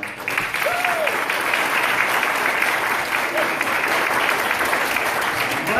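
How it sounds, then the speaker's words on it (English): A church congregation claps for the choir and bell choir in a full, sustained wash of applause that stays loud and even across the whole stretch, with a faint voice or whistle briefly poking through. "So I just want to give you guys a big round of applause."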